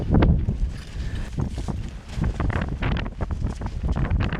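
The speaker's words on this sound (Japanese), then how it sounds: "山頂近くなるとますます風が強くなります。" Strong wind near the summit of Mt. Fuji on the Yoshida route buffeting the microphone in heavy, uneven gusts, a loud continuous roar with sharp rumbling thumps and no voices.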